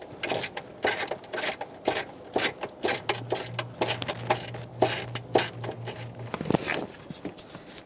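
Quick ratcheting clicks from tightening the horn mounting bolt on a 2014-2018 Chevrolet Silverado 1500, a close, steady run of metallic ticks with a faint hum through the middle.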